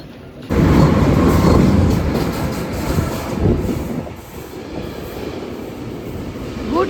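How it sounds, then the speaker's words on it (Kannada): Train at a station rolls past close by, a loud steady rumble with rattling wheels and faint squeals that sets in abruptly and slowly eases off. "So next train 12:58ಗಿದೆ. ಈ ಟ್ರೈನಲ್ಲಿ ಬಂದು ಇಳ್ಕೊಂಡ್ವಿ."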